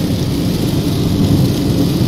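Steady heavy rain pours outside with rumbling thunder underneath, a loud continuous wash of noise lasting the whole stretch with no voices.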